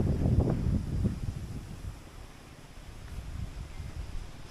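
Steady wind rushing across the microphone, gusting louder at the start and then settling into a softer, continuous outdoor whoosh.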